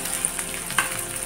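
Chopped onions with kokum and green chili sautéing in a pan: a steady, close hiss of frying with a couple of sharper crackles, lasting just over a second.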